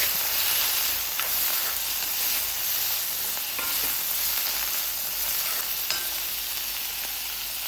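Tomato frying with ginger and garlic in a pan for a prawn and small onion roast: a steady, dense sizzle and hiss runs throughout, with faint scrapes of stirring and no voices.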